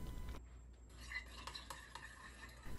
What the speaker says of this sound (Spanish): Ahora solo tienes que mezclar bien todos los ingredientes.